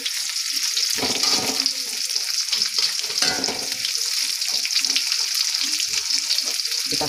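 Onion sizzles and crackles steadily in a hot pan while cooking mussels in sweet and sour sauce, a continuous close frying hiss with occasional stirring sounds and no talking.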